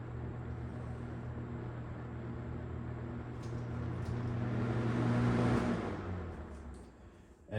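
Toastmaster 4437 20-inch three-speed comfort fan running on one speed, a steady low hum with broadband airy whoosh that swells slightly midway and fades toward the end, no talking.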